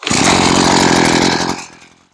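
A Wildbadger 52cc brush cutter engine revs loudly and raspily up close for about a second and a half, then winds down and stops.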